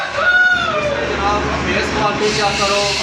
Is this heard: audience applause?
no